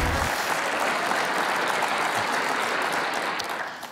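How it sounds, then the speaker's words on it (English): A studio audience on a morning live show gives a steady round of applause, dense and fairly loud throughout before thinning slightly at the end. "How about a big round of applause for our top 10?"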